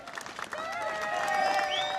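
Crowd at a charity walk finish line, clapping steadily and cheering, with high cheers and whistles over a continuous patter of applause.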